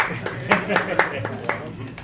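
Attendees at an Ann Arbor Downtown Development Authority board meeting give a short round of clapping, with about eight distinct, evenly spaced claps ringing out in a quiet room.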